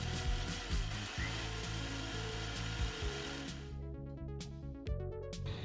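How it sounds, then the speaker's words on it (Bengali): Kitchen blender whirring as soybean oil is added for sandwich cream, a steady loud motor drone with pulsing changes in load, cutting out briefly near the end before restarting. "অল্প অল্প করে তেল দিয়ে দিব এবং ব্লেন্ড করে নিব।"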